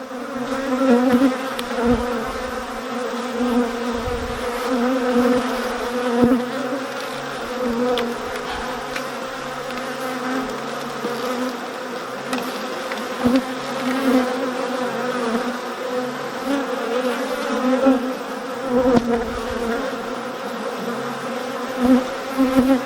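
Honeybees in an open hive with drones among the frames hum in a steady, dense buzz throughout, close and continuous with small swells in loudness and no talk over it.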